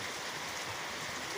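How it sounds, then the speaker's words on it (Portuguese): Heavy rain falls on a farm in the early morning, a steady dense hiss with no break and no voices over it. "Garrado na chuva, plena 7 horas da manhã e o tempo tá escuro"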